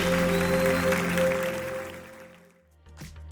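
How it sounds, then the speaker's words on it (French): A church congregation applauds loudly for a couple of seconds over sustained music, then the clapping fades away, leaving the music quieter with a few scattered sounds. "que tous ceux qui le croient disent Amen et applaudissent bien fort le roi des rois"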